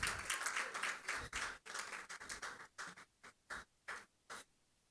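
An audience at a demo day and graduation ceremony claps loudly at first, then the applause thins into a few scattered, separate claps that fade out.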